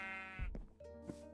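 A sheep bleating in Minecraft, a single harmonic, wavering bleat with a short gruff onset, close and clear against a quiet background.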